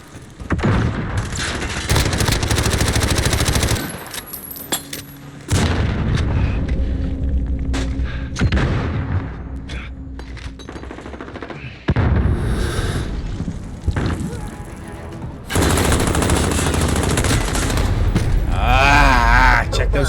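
Dense, loud gunfire and booming explosions in a military video game, with continuous rattling bursts and heavy blasts filling the scene and brief lulls between, with voices heard among the battle.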